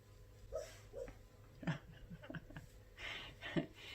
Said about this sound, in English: my old, almost 17-year-old blind deaf dog is having a dream in the background